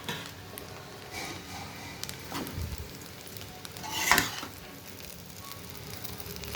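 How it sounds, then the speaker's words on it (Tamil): Paneer fried rice being stirred in a pan, with soft scraping and clinks of a spatula against metal over a faint sizzle, one louder scrape standing out midway, no talking. "பன்னீர் ஃப்ரை பண்ணியிருக்கோம்ல, அதையும் ஆட் பண்ணிவிட்டு நல்லா கலந்து விட்டுடலாம்."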